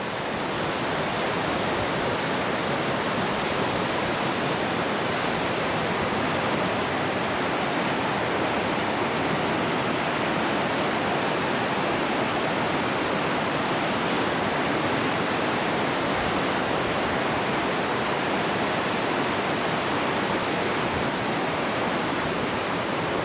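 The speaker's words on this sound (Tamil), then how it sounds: "ஆற்றுல தண்ணி போயிட்டு இருக்குல்ல" Steady, full rushing of flowing river water in a Nepal village, loud and continuous throughout with no voices.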